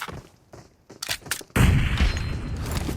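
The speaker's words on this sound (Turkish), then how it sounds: "Adamın kafasına patladı bomba." A sudden loud boom of an explosion bursts in after a few sharp clicks and thuds, then a dense rumbling roar sustains afterward.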